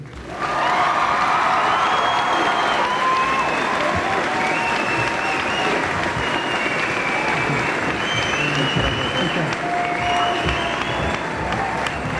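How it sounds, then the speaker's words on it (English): An audience applauds at a high school commencement ceremony for the class of 1993, with a loud, continuous crowd clapping sustained for the whole stretch and faint cheers mixed in. "I think all three of those speakers deserve a nice round of applause"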